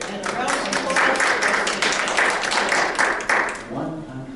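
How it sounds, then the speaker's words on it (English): Meeting audience in a library board room claps for several seconds, a dense, close round of applause that tapers off near the end, with voices mixed in. "And a round of applause"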